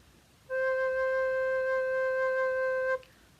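One low, pure recorder-like note held steadily for about two and a half seconds, soft and breathy against quiet background hiss.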